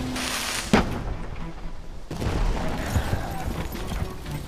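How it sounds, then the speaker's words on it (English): British artillery fires in a reenactment of the Seven Years War Battle of the Plains of Abraham in Canada: a sharp cannon blast, then a second heavier boom, both trailing into a rolling outdoor rumble. "the British artillery pummels the French line to create disorder while the army is still forming on the hill"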